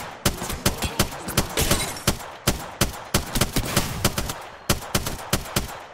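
Rapid bursts of gunfire in an Apex Legends ranked match, sharp repeated shots in quick volleys with short gaps, loud and close throughout with no talk over them.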